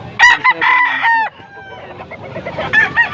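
A young rooster crows loudly nearby at a rooster sale in Angeles, Pampanga, a drawn-out cock-a-doodle-doo, followed by fainter crowing and clucking from other birds in the background.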